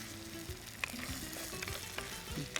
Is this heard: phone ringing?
no